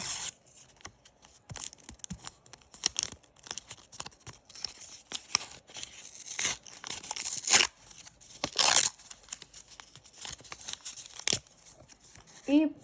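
Repeated short bursts of paper tearing and crinkling as paper surprise packets are ripped open, with faint speech in between.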